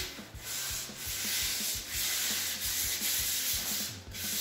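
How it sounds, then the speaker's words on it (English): Steady rhythmic hand sanding scrapes across the corners and edges of a hardwood floor, close and alone, with repeated back-and-forth strokes. "Little hand sanding on the corners and edges."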